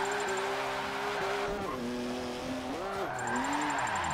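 A drift car in a video game revs through winding corners, its engine note rising and falling with shifts while tires squeal steadily underneath, fairly loud and continuous.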